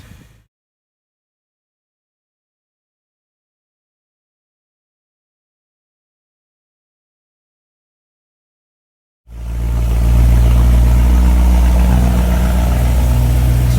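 After a long stretch of silence, a BMW E92 M3 with an S65 engine starts running loudly and close by, a steady low rumble that holds to the end.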